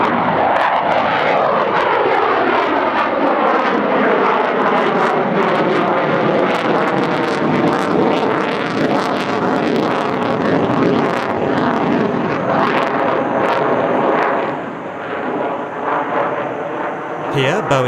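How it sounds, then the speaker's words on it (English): A Boeing F-15QA Ababil fighter jet roars through its debut flying display at the Dubai Air Show 2023, a loud sustained engine roar that sweeps and shifts in pitch as the jet passes, under a commentator's narration. "Perhaps the most keenly awaited flying display of the Dubai Air Show 2023 was the world debut of the F-15QA Ababil."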